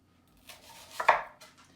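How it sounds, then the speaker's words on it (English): Habanero salsa vegetables being roughly chopped on a board, a few quiet knife strokes building to one louder cluster of chops near the middle, then a faint tap, no talking. "you just get some rough chops like this"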